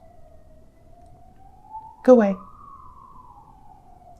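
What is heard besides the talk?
siren passing outside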